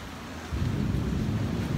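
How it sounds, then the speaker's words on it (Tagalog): Heavy rain roars continuously, swelling louder about halfway through with a deep low rumble beneath the dense hiss. "Lakas nga ng ulan, no?"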